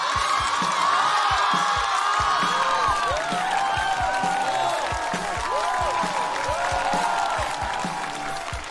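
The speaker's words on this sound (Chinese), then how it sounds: "掌声有请" A theatre audience breaks into loud, continuous applause with cheers and whoops as a stand-up comedian is welcomed onto the stage, the clapping steady throughout and easing slightly near the end.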